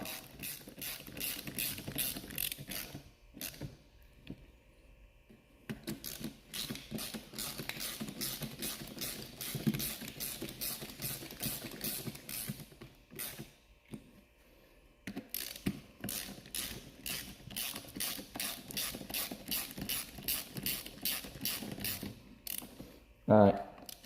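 Ratcheting wrench clicking in steady runs while clutch bolts on a Ferrari 348 are snugged in a crisscross pattern, close and moderately loud, broken by brief pauses between bolts.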